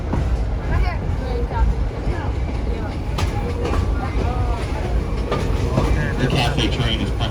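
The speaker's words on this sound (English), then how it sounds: "cafe train is primarily made up of vintage 1950s passenger equipment" A vintage 1950s passenger dinner train rolls along rails in Lincoln, New Hampshire, with a continuous rumble, rattling and occasional squeals and clacks, while voices talk underneath throughout.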